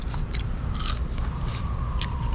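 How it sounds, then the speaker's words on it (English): Someone bites into and chews warm seasoned Popeyes fries up close, with soft crunchy mouth sounds over steady background noise and no speech. "Right, I'm gonna try some of these fries."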